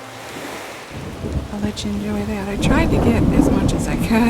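A thunderstorm with wind and waves on an island in Animal Crossing: New Horizons, a steady rush of wind and surf under game music tones, while someone talks over it.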